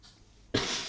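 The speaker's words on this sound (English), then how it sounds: "Having a cough. Oh dear." A single sharp cough bursts out after a half second of near silence, close and fairly loud.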